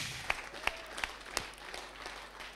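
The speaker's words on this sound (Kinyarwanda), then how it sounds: "Reka dukomere Yesu amashyi menshi." A few scattered, faint hand claps from a church congregation, four separate sharp claps spaced under a second apart over a quiet room background.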